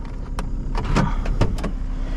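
Power windows on an Opel Corsa whirring in short bursts from inside the cabin, with several quick clicks and thumps of the switches and glass settling, close and fairly loud.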